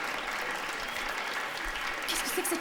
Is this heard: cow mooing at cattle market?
no